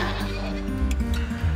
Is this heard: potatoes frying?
no